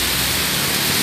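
Heavy rain driven by strong wind in Maringá makes a loud, dense, unbroken roar of noise, with no voices present.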